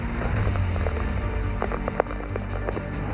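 Heavy rain pouring steadily over a city, a loud continuous wash of drops on surfaces with a few sharper splashes and a steady background hiss throughout.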